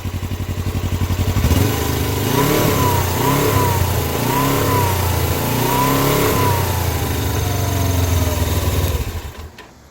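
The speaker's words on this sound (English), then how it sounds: "this is the idle sound of the bike, and I'm gonna give it a little throttle for you" A Suzuki GS500F motorcycle engine revs repeatedly in rising and falling bursts, loud and close, with no talking, before the sound cuts off near the end.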